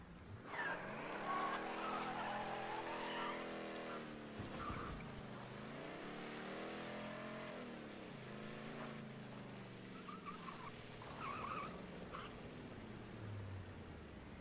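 A car engine revs and shifts continuously with tire squeals and skids in the video game Mafia III, a steady synthetic game-like drone with rising and falling pitch.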